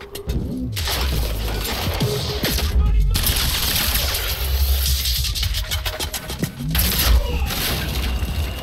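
Fireworks going off in the video game Quantum Break, a rapid crackling of bursts and pops over a busy ambient background, with several louder volleys in quick succession.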